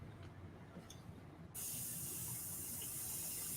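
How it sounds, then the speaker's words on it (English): An airbrush sprays paint in a steady, continuous hiss that starts abruptly partway through and stays loud and even to the end, with no talking. "Spray that, and then I'll knock my air valve down just a little bit."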